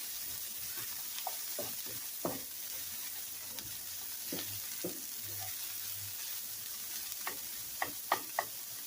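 Plant-based breakfast chorizo browning with vegetables in a pan, a steady close sizzle with scattered ticks and scrapes of a utensil stirring, and no talking.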